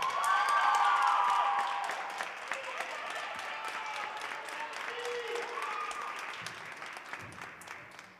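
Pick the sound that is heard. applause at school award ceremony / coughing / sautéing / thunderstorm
applause at school award ceremony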